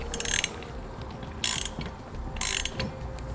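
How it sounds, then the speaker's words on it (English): A ratchet wrench or socket snugs down bolts on an air helper spring installation under a vehicle on a drive-on lift, heard as three close, crisp bursts of rapid clicking separated by pauses. "we're going to go ahead and tighten the bolts up here and go ahead and snug them down"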